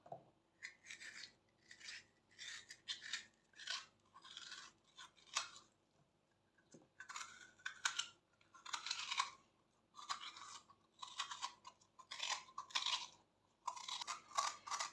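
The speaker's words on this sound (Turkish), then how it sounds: "patateslerimin böyle üst kısmından biraz alıyorum ve dolma oyacağımla içini çıkartıyorum" Peeled potatoes are hollowed out with a dolma corer, giving short, rhythmic scraping and rasping strokes in quick repeated bursts, close by and moderately loud, with brief pauses between.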